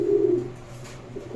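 A male big pigeon from Gopalganj gives a single deep, close coo at the start, then a shorter call rises again near the end.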